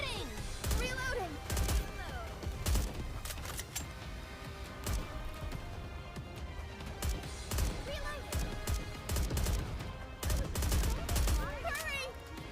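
Repeated bursts of video game gunfire from Nikke, with loud shots scattered across the clip over a busy background of game sounds and effects, and voices talking now and then.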